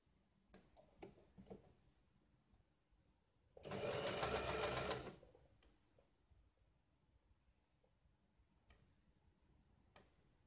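One short burst of sewing machine stitching on blouse fabric, lasting barely a second or two, rises out of a quiet room where faint ticking clicks come and go.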